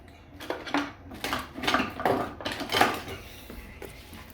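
A spoon stirring turkey noodle soup made from Thanksgiving leftovers in a pot, giving a run of repeated scraping and clinking strokes at a steady rhythm, close and moderately loud, with no talk.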